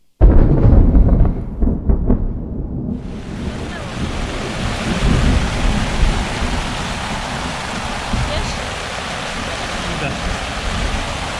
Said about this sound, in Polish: No, od burzy i ulewy w namiocie.